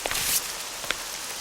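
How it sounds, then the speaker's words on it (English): Steady rain falls outdoors as a soft, even broadband patter, with a few brief louder drop or rustle ticks standing out near the start and middle. "Get out of the rain."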